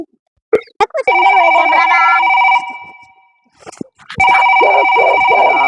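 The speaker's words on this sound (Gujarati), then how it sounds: "પેલા મંકાનો ફોન આવ્યો" An electronic telephone ring sounds loud and near for an incoming call, two long warbling bursts separated by a brief pause, with a few short clicks and sounds before it.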